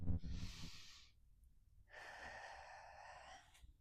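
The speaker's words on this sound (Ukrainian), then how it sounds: "Декілька циклів дихання." Two deep, close breaths during a seated yoga exercise for desk workers: a strong airy inhale, a short pause, then a long, slower exhale with no talking.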